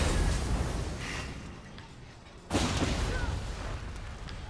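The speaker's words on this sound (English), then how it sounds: "You're standing in the explosion." An explosion erupts in The Elder Scrolls Online, a broad, roaring blast that starts loud, fades away, then bursts again in a second heavy boom that rumbles on.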